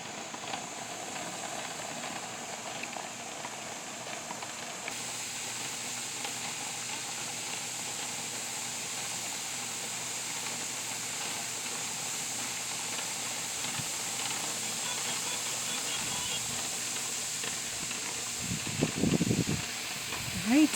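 A pressure canner full of green beans vents a loud, steady hiss of steam that holds evenly throughout, with a brief knock of handling near the end.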